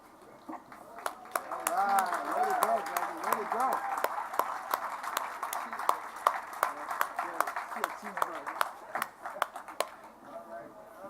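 Scattered applause from guests at a Boys & Girls Club clubhouse groundbreaking ceremony, with sparse claps running through the clip under steady crowd chatter and nearby talking voices.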